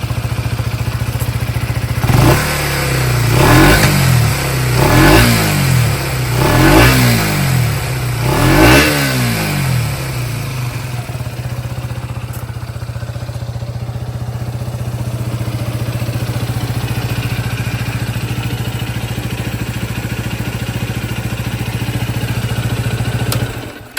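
A Husqvarna 401 motorcycle engine fitted with a BMC racing air filter, close and loud: five sharp throttle blips rise and fall over the first ten seconds, then it settles into a steady, even idle.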